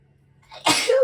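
A single person's sneeze, a brief indrawn breath building into one sharp, loud burst close to the microphone, then a short voiced tail.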